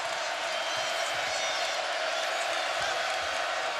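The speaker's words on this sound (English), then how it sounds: "And here comes the crowd once again" A crowd cheering inside a basketball arena at a Texas A&M versus Baylor game in College Station, heard as a steady, dense roar with no breaks.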